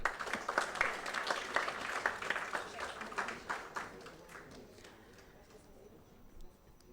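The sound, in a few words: audience applauding prize winners at award ceremony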